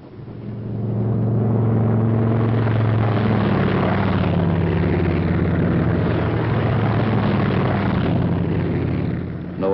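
A Thunderbolt fighter plane takes off from Alto airfield, its engine a loud, sustained droning roar that swells quickly and holds steady for several seconds before easing slightly at the end.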